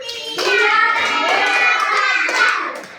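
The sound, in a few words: class clapping in rhythm on the teacher's count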